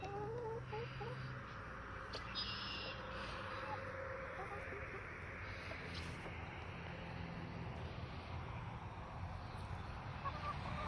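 Birds around grapes on a homestead, honking goose-like calls over a steady windy outdoor wash, fairly distant and continuous, with a faint voice in the background.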